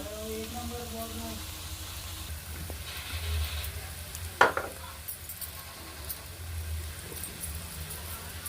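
Onions frying with chili powder for an egg omelette curry, stirred in the pan, giving a steady close sizzle with a sharp scrape of the spoon midway.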